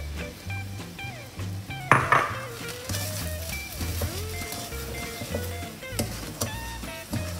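A spoon scrapes and clinks in a pan as sugar is stirred into well-cooked pear for pear kesari, with irregular metallic taps and soft scraping at close range.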